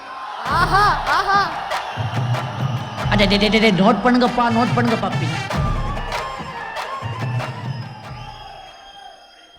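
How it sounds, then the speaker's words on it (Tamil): A large crowd at a film pre-release event in Madurai cheers, whistles and claps loudly, with shrill whistles and roaring voices over amplified speech from a man addressing them. "உண்மையிலே உங்களுடைய இந்த கைத்தட்டல், விசில், இது எல்லாமே யாருக்குன்னு எனக்கு தெரியும்"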